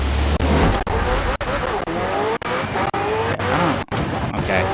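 McLaren Senna in Forza Horizon 4 spinning its wheels, a loud high-revving engine with tire squeal and repeated gear-shift dips, with a voice talking over it.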